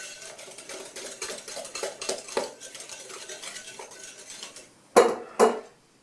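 Dry spices including cinnamon stirred together in a bowl with a utensil for a cushaw pie filling: a steady run of soft scraping clinks, then two sharper, louder knocks of the utensil against the bowl near the end.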